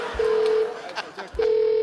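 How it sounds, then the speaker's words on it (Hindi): A telephone on a comedy talk show sounds two sustained electronic tones separated by a pause, loud and close, with brief voices and noises in between. "हेलो फोन आ रहा है,"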